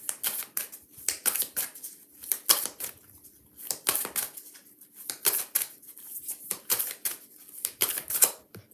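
Shuffling cards during a card reading, heard as repeated bursts of crisp riffling and flicking in uneven rhythm, close and fairly loud, with no talking.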